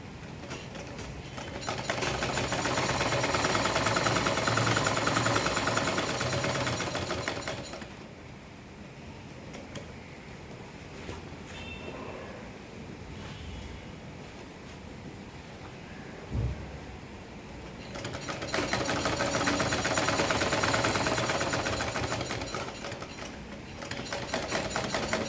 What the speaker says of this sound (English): Continue stitching and complete the edge machining.